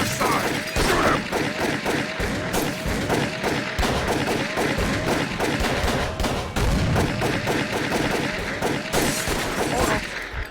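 Dense gunfire rips through a Call of Cthulhu: Dark Corners of the Earth chase scene, with rapid overlapping shots and crashes filling the whole stretch while shouting voices carry over the battle.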